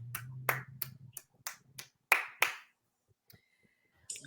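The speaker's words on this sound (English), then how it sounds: "Oh, he applauded." A man's excited, celebratory handclaps, a quick series of about eight sharp claps close by, with a brief faint tone and a short snap near the end.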